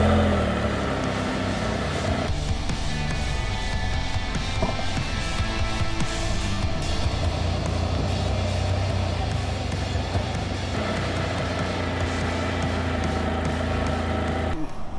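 A Can-Am Spyder RT Limited three-wheeled motorcycle out on a road test ride, heard as a steady, loud engine drone mixed with broad wind and road rush that continues without a break.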